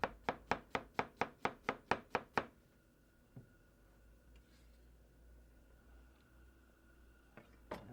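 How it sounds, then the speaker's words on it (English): Knife chopping onion thin on a cutting board, about a dozen quick, evenly spaced chops that stop abruptly, then a quiet kitchen with one or two faint knocks. "We're going to do the same with our onion."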